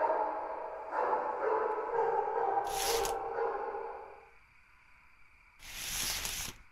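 Dog-like barks and sonar-style pings play out in the horror video game FNAF P.T. Emergency Call, with a few short, fairly faint bursts separated by quiet gaps.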